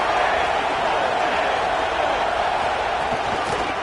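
Stadium crowd noise in the NCAA football video game, a steady, loud, dense roar that holds evenly throughout with no breaks.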